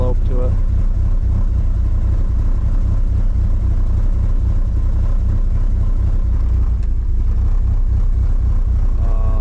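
A car engine fitted with Brian Crower 272 camshafts idles with a slight lope, a steady low rumble running the whole time while a person talks over it.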